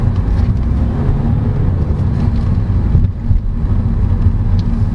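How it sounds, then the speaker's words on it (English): Inside a moving Mazda 3 hatchback, a steady low road and tire rumble fills the cabin, dense and continuous with a soft wind-like wash over it. "Tire noise, not that much."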